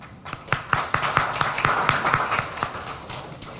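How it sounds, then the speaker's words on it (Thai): Seminar audience clapping to welcome a speaker onto the stage: a small crowd with distinct, sharp hand claps in a fairly even rhythm, moderately loud in a hall, lasting a few seconds. "ขอเสียงปรบมือต้อนรับคุณดังใจทวินอนันตชัยค่ะ"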